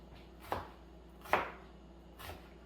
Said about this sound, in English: So I'm going to chop up my onion.